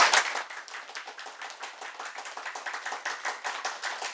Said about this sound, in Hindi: एक बार जोरदार तालियां एफपीआरटी के लिए